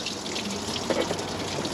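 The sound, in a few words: water pouring out of engine part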